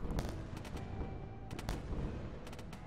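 Guns firing in the space game Wayward Terran Frontier: Zero Falls, with sharp bursts in three clusters of quick repeated shots over a steady low rumble.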